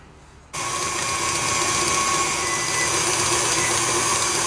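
After a brief quiet moment, an electric mixer abruptly starts whirring steadily as it beats cake batter of orange zest, eggs, orange juice, milk and vanilla for a petite orange cake, running continuously without talk.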